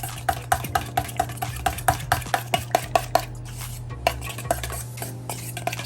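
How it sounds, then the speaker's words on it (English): Spoon stirring honey garlic sauce ingredients in a bowl for lamb chops, a quick rhythmic series of light clinks against the bowl under a low steady hum, close with no talk. "Once we add these 2 ingredients together, we're just gonna give it a nice little mix"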